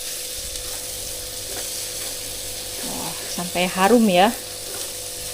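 Spice paste for opor ayam fries in a pan with a loud, continuous sizzle, and a person speaks briefly over it.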